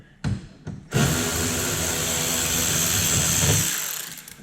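Power drill or impact driver running almost continuously at close range while removing fasteners on a Dodge Charger Daytona, loud and steady after two brief starts.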